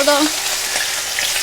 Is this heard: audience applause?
no